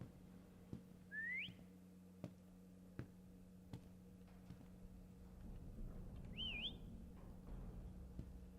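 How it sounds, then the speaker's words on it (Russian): Two rising whistles from a character in the horror video game Lazaret sound faintly in a quiet scene, spaced a few seconds apart over a low hum and soft, regular knocking steps; no speech. "А, вон там свистит он."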